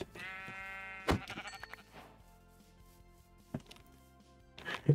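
Minecraft sheep bleat in short bursts near the start and end, separated by quiet stretches with faint game sounds and no speech.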